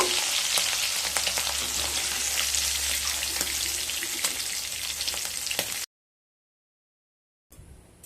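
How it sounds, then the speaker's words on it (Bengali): Shrimp sizzling as they fry in hot oil, a steady dense crackle for several seconds before cutting to silence, then briefly returning. "চিংড়ি মাছগুলো ভাজা হয়ে গেছে।"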